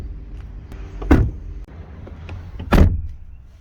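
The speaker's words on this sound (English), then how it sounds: "Volkswagen are supposed to be known for this terrific door close sound" Volkswagen Passat B6 car doors shutting, two solid thuds about a second and a half apart over a low idling rumble, close by.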